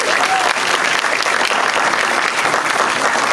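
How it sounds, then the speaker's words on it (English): A packed theater audience claps steadily and loudly for over three seconds, a dense, even wash of applause with no voices rising above it. "Give yourselves a round of applause for being here today."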